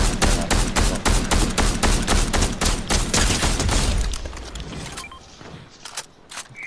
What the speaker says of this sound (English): Somebody else is shooting on the side.